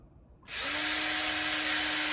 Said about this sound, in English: Pre-drill a hole.